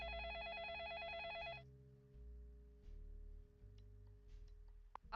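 A synthesized telephone rings in the video game Slay the Princess, a trilling electronic ring that sounds for a second and a half and then stops, leaving low droning background tones.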